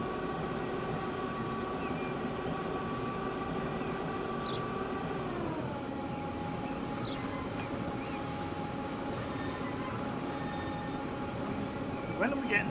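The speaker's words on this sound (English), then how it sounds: "This is how train should run." A train running in the video game Transport Fever 2 on an Italian route along Lago D'Iseo, a continuous rumbling rail drone with steady tonal hum that shifts pitch midway, under faint talk.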